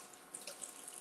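Water runs from a kitchen sink tap for a brief rinse, a soft steady splashing stream at close range with no talking.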